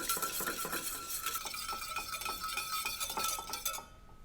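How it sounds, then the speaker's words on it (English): A mustard and olive oil vinaigrette is whisked in a bowl, a quick, close rhythmic clicking and scraping of the whisk that runs steadily, then stops abruptly near the end. "And just whisk it all together."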